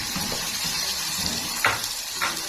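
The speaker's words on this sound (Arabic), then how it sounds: "حتتين زبدة ندوب كويس" Butter melts in a pan over dissolved sugar with a steady close sizzle, broken by a couple of brief louder bubbling spurts.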